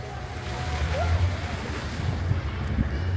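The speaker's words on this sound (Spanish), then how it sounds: "Acá podemos observar la cascada." A waterfall pours at an outdoor recreational park in a steady, broad rushing roar that holds for the whole span, mixed with gusty wind buffeting and a faint passing whistle-like tone.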